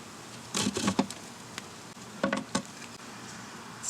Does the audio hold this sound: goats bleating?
no